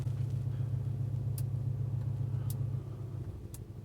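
A Mercedes-AMG C63 S sedan from 2020, with its V8 exhaust set to Sport Plus or Race mode, holds a steady deep idle rumble. The tone stays constant, with faint clicks above it.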